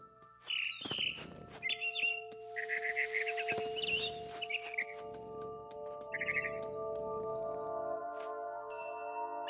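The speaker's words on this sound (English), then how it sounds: "It was a barn swallow going back to her nest." Bright, high barn swallow chirps from a video game come in short bursts, some overlapping into a busy twittering stretch, with a steady electronic hum running underneath.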